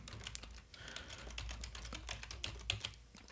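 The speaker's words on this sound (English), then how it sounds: "And then I can type in the name of the shared mailbox." Keys clatter on a computer keyboard as a name is entered into an Office 365 admin field, a quick irregular run of close, fairly soft taps with no talking.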